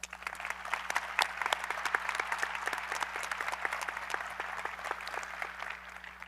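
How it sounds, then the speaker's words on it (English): A graduation ceremony audience gives a round of applause, crisp individual claps forming a steady, moderately dense patter that holds evenly, with a faint constant hum underneath. "Please give them a round of applause."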